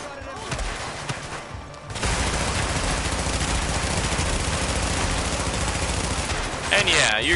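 Dense, continuous gunfire in the video game The Division: rapid automatic rounds and bursts rattle loudly and steadily for most of the stretch after a quieter opening, ending with a few brighter tones.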